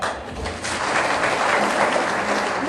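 Crowd clapping in a hand-clapping game at a rally, a dense continuous wash of applause from many hands at close range throughout.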